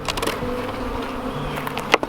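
Honey bees buzz around a hive feeder in a steady, close insect drone, with a few sharp knocks near the end.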